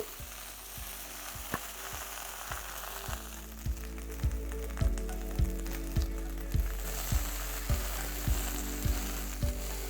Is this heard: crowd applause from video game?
no